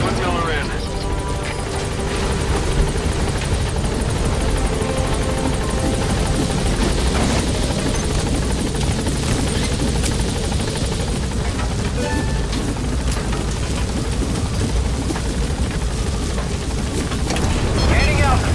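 Helicopter in the video game Metal Gear Solid V: The Phantom Pain, taking off with a loud, steady rotor and engine roar that holds throughout, game voices speaking over it.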